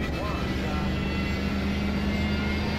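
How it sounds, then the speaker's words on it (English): A continuous droning Mercedes AMG GT3 race car engine in iRacing at Road America holds steady and loud, a smooth mechanical whine with no breaks or talking. "I like that noise of the GT car in the background."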